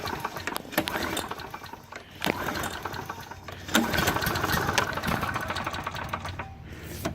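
A small engine runs roughly after priming, close and uneven, with a sputtering, knocking putter that surges and dips as it struggles to keep going.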